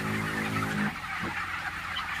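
A single short, harmonic fowl-like call rises briefly over a steady background hum inside a poultry farm where chickens are kept, then fades into the ambient noise.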